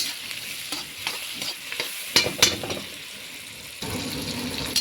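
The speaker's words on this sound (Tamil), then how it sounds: "இது கூட இஞ்சி பூண்டு கொஞ்சம் சோம்பு இதையும் போட்டு நம்ம வதக்கி எடுத்துக்கலாம்." Tomato, onion, ginger, garlic and fennel seeds sautéed in a pan, an even sizzle with stirring scrapes and a pair of sharp clinks near the middle, close and alone without talk.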